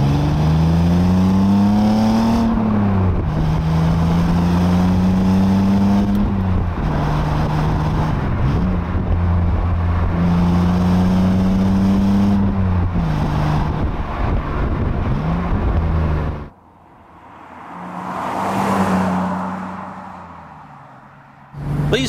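A BMW Z3 roadster driven hard, its engine revving up through the gears in repeated rising sweeps with shifts between, loud and close, then a sudden drop to near quiet before the engine note swells back in.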